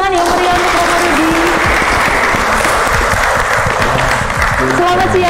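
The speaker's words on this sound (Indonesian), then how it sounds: "Kami beri tepuk tangan yang meriah untuk Romo Rudi" Warm applause from a parish gathering welcoming the priest, steady and loud throughout, with tonal music or voices sustained underneath.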